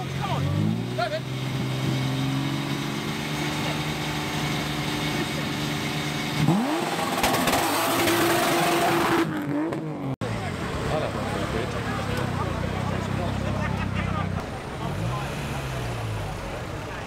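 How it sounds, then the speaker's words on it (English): At a retro car meet in Southend, a car engine revs up and falls back several times, with rising and falling pitch sweeps close by. Crowd chatter and voices run over the engine noise. "Give it a rev, Bill."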